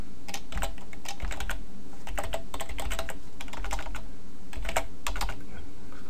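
Typing on a computer keyboard while writing HTML code, with bursts of clustered keystrokes separated by short pauses, close and clear with no talking.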